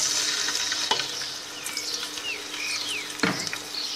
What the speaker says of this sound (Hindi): प्याज निकालने के बाद हम इसी तेल के अंदर ज़ीरा और लहसुन डाल देंगे